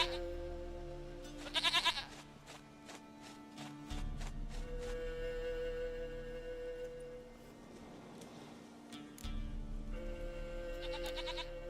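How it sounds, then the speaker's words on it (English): A goat in Witcher 3 Wild Hunt bleats in a few short, wavering cries near the start and again at the end, set against a steady low in-game ambient drone. "Goat of mine, dearest, sweetest goat."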